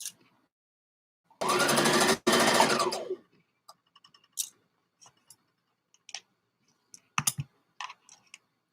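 A sewing machine stitches the underarm seam of a garment in one loud, close burst of about two seconds with a brief catch midway, followed by scattered small clicks and taps.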